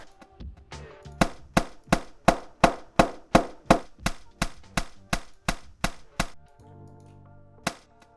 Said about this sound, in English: One of me stabbing this bottle of orange juice with a kitchen knife, of course it was empty, to get the sound of the knife entering the body